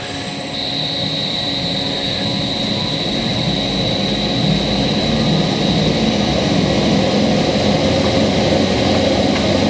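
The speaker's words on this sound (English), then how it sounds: "now I'm going to turn it into the high speed position and watch it get cranked up" A 2011 DTEnvironmental 840 Enviro-Drum compost turner runs at high speed, giving a loud, steady mechanical roar with a constant whine that holds unbroken from start to finish.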